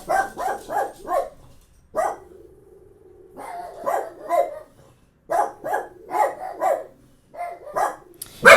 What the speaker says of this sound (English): I didn't say anything while the dogs are barking